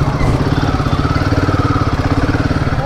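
A Royal Enfield Himalayan 450 motorcycle crawls in first gear, its warm engine giving a close, loud, steady, rapid thumping pulse.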